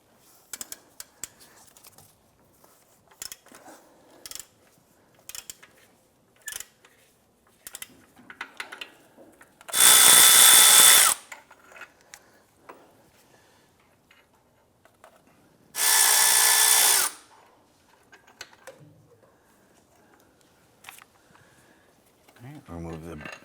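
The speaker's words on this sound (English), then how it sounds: "we're gonna use a 15mm deep socket and our ratchet, and I wanna go ahead and loosen these bolts" A 15mm deep socket and ratchet work at alternator bolts on a 2005-2007 Ford Five Hundred, giving scattered close clicks and clanks, with two long loud bursts of power-tool whirring in between.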